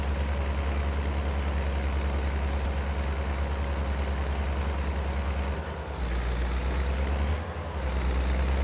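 A tractor engine in Farming Simulator runs steadily with a deep low drone, continuous and near, with two brief dips as the throttle changes.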